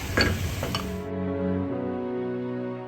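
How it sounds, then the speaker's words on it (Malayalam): Tomatoes are sautéed with spice masala in hot oil for a Malabar fried chicken curry, with a couple of sharp spoon-against-pan scrapes over a soft, steady sizzle. "തക്കാളിയും ഈ മസാലൻ്റെ കൂടെ ഒന്ന് നമുക്ക് വഴറ്റി കൊടുക്കാം."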